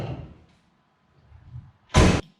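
The bonnet of a Holden HZ Ute pops open with a single sharp, loud metallic thunk, preceded by softer fumbling clicks at the latch.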